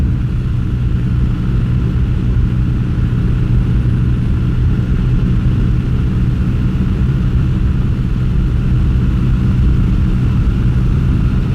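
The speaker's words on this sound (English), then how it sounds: "Full throttle run." A budget bobber motorcycle with a modified carburetor slide runs at full throttle, giving a loud, steady, continuous engine roar and rumble that holds without a break.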